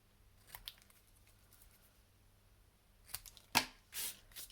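Sharp snips of scissors trimming a paper card banner for a rainbow birthday card, a faint cut early on, then a louder crisp snip and a second burst of cutting near the end, close up with no talk.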